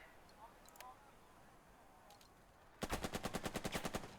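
Rapid machine-gun fire in the World War II tactics game Burden of Command, a loud rhythmic burst of about a dozen evenly spaced shots following a quieter stretch of faint game ambience.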